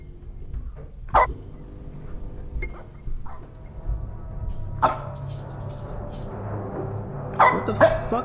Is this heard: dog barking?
yes